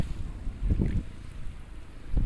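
Steady wind blowing across the microphone, with low rumbling gusts swelling and fading over an outdoor background.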